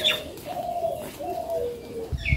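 Pigeons in a village coop give soft, close, repeated coos in a low rolling rhythm, with a brief chirp at the start and a rustle near the end.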